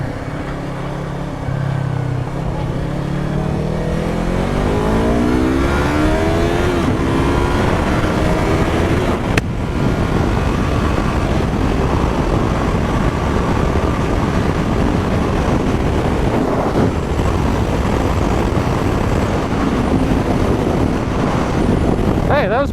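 A motorcycle engine revs high, around 8,000 RPM at roughly 75 mph, a loud continuous drone with rising harmonic sweeps early on, wind roar throughout, and a rider talking over it.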